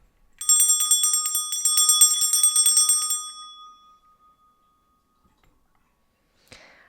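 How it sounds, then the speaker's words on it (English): A small hand bell rings brightly and shimmering for about three seconds, then fades into quiet, followed by a faint click near the end. "I'll start by clearing the frequency with this bell."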